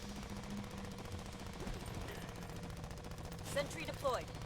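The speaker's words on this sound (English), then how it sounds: "So I'm hearing gunshots?" Rapid, distant automatic gunfire from the Aliens Fireteam Elite video game rattles steadily beneath a busy game soundscape, with a couple of sharp chirping creature cries near the end.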